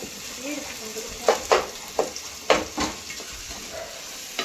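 Whole tomatoes being stirred into frying biryani masala in a pot: a continuous sizzle under sharp scraping spoon strokes and clanks against the pan, several irregular hits close up, with a faint voice in the background.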